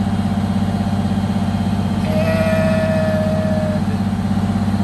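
A Detroit diesel engine with a blower-driven tach drive runs steadily at about 1,000 RPM, a loud, even idle-like drone with a constant rhythmic throb and a brief whine rising partway through.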